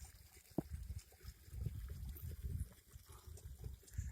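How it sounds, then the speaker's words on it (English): A small mountain stream flowing out of a lake trickles and gurgles softly and continuously, with low rumbling water tones and an occasional brief splash, all heard faintly outdoors. "Here's my water source. It's flowing from a lake over there."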